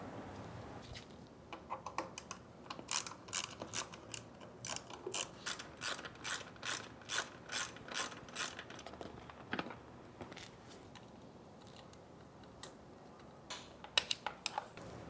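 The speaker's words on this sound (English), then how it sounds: "On the right side, remove these 3 bolts." Ratchet wrench clicking in quick bursts while 5mm bolts are loosened from the right side panel of a Yamaha Bolt motorcycle, close and fairly quiet, with a few pauses between runs of clicks.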